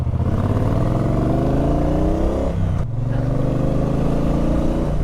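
A Triumph Speedmaster motorcycle engine revs out in second gear, its pitch climbing steadily, dropping sharply at a shift, then rising again, loud and close throughout.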